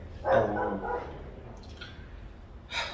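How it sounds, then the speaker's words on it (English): Two or three sharp dog barks, moderately distant, separated by quiet pauses, with faint background noise. "This stupid dog it doesn't stop barking."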